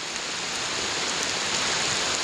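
Heavy rain pours steadily during a fishing trip on a warm day, a dense, close, continuous hiss of drops hitting surfaces with no pauses and no talk.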